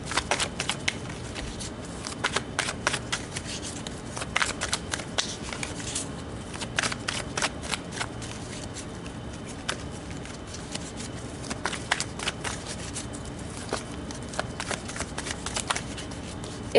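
Tarot cards shuffled steadily by hand, a dense run of soft riffling snaps and clicks that continues close and moderately quiet, with no talking.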